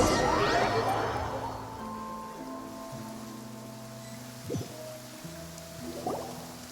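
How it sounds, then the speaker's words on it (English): Rain falls steadily in Genshin Impact, a soft continuous patter under tonal game music, with a couple of brief louder hits partway through. "It's been raining non-stop for a few days now."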